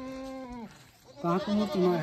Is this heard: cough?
no